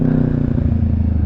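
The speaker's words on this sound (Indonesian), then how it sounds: "Motor aku kurang napas cok." A motorcycle engine labours and strains while climbing a highland mountain road, a loud, steady low drone with a rough, pulsing texture throughout.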